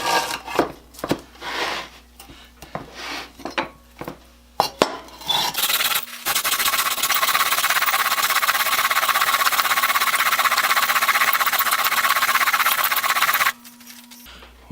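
A blade held in a General No. 810 sharpening guide is worked across sandpaper, first in short rasping strokes, then in a long continuous close gritty scrape that stops abruptly, with no talk.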